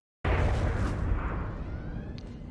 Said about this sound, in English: but that was Beverly shooting everything up.